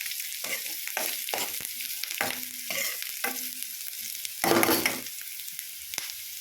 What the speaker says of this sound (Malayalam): സവാളയൊക്കെ ഒന്ന് വഴന്ന് വരുമ്പോൾ കട്ട് ചെയ്ത് വെച്ചാൽ ക്യാരറ്റും ബീൻസും കൂടി ചേർത്ത് കൊടുക്കാം.